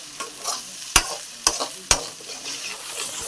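Onions sautéing in a pan with ginger garlic paste and coriander powder while cooking egg fried rice, a soft continuous sizzle broken by three sharp stirring clacks of a utensil against the pan, close and alone.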